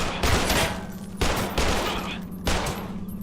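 Rapid gunfire in the video game Garage: Bad Trip comes in three loud, dense bursts about a second apart, each a sustained crackle of automatic shots that then tails off.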